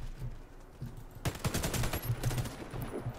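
Cobalt Kinetics EDGE rifle firing in Warface, a rapid automatic rattle of closely spaced shots that kicks in after a quiet opening second and keeps going in dense bursts to the end.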